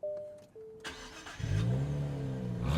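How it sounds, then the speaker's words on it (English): A 2024 Nissan Z NISMO starting up: faint starter whine and clicks, then the engine catches with a rising rev that settles into a loud, steady rumbling idle close by. "is what it sounds like when you start the Nissan Z Nismo"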